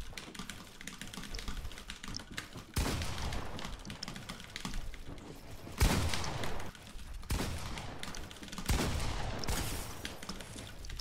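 Gunfire in the Fortnite video game, pump shotgun blasts landing as sharp loud bursts at a few points over steady dense game noise, with no talk.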